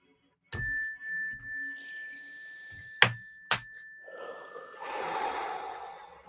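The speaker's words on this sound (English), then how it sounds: "We're going to take a slow, deep breath when you hear the bell" A clear bell strikes once and rings out with a long sustained tone, then two softer taps follow, with slow, deep breathing heard nearby.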